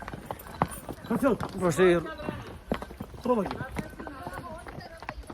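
Horses' hooves clip-clopping along the rough trail at Pahalgam in Kashmir, irregular steady knocks close by, mostly under people talking.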